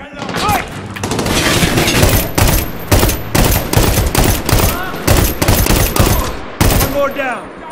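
Heavy gunfire in Medal of Honor: Warfighter: dense, loud bursts of rapid shots and sharp cracks keep coming, with brief gaps. Voices talk intermittently beneath the shooting.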